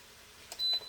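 An Instant Pot pressure cooker gives a short, high electronic beep as it is switched off, a single faint tone following a brief soft click, in an otherwise quiet room.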